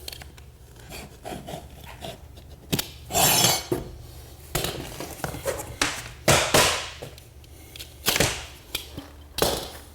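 Repeated short rasping cuts and scraping strokes on vinyl plank flooring, irregular bursts close by, with quieter rustling and handling in between.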